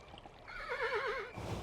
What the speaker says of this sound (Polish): mój koń się niecierpliwi.